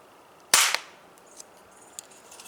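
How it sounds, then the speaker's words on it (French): A single firecracker fired from a homemade firecracker gun at a cardboard target a short distance away, one sharp loud crack with a quick rattling tail, then a few faint clicks in quiet air. "première charge, charge unique, donc juste un pétard"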